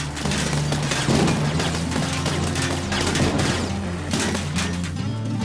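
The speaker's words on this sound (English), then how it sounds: "let's go see what this Gatling gun is about" A Gatling gun fires in the vehicle-building game TerraTech, a loud continuous rattling barrage with booming impacts underneath, steady throughout and without speech.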